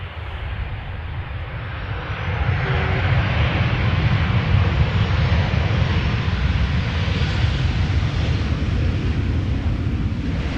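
Transavia airliner arriving at Amsterdam Schiphol from Tromsø: a broad jet roar swelling after about two seconds and then holding loud and steady to the end, with no talk.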